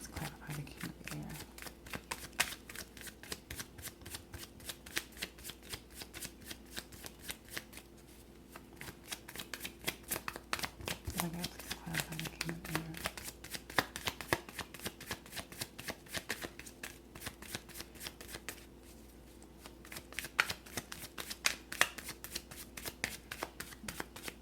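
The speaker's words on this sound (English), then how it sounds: "I'm one of those people who shuffles until something falls out" Tarot cards are shuffled repeatedly in quick riffling bursts with brief pauses, close and fairly quiet, with no talking.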